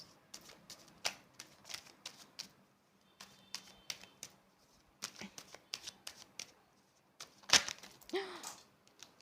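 Tarot cards gathered up from a floor, a run of soft irregular card clicks, slaps and shuffling rustles, close and fairly quiet, with a sharper snap near the end.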